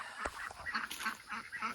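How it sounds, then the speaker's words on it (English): Ducks on a Florida homestead quack in a quick, repeated series of calls, close and fairly loud, with no talking. "lots of ducks, lots of animals"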